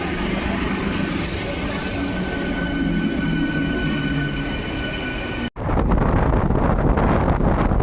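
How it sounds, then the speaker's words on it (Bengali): A train pulls into Agradwip station, a steady loud rumble of wheels and carriages with a brief dropout before the roar resumes, louder and closer, with no talk over it. "আমাদের অগ্রদীপ স্টেশনে এখন ট্রেন ঢুকছে"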